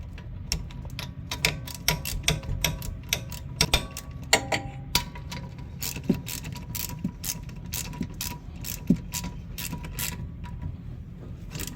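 Bolts being tightened on a Subaru Forester rear wheel bearing hub assembly, a ratchet clicking in quick bursts of sharp ticks with short pauses, close and moderately loud over a low background hum.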